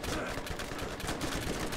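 Rapid gunfire from the Borderlands shooter game, a dense continuous burst of loud shots filling the whole stretch without pause.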